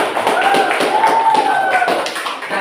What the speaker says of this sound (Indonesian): tepuk tangan buat temannya